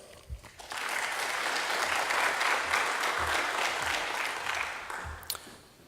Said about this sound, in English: so let's give it a charm applause